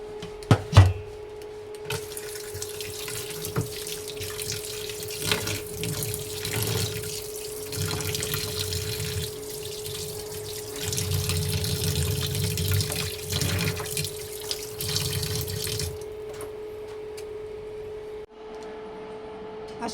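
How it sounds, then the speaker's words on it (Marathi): Half a kilo of mutton rinsed under running tap water in a sink for a Marathi mutton ukad recipe, a steady close splashing and trickling with brief clatters, continuing for most of the clip before stopping near the end. "अशा प्रकारे स्वच्छ असं मटण धुवून घेतलं आहे"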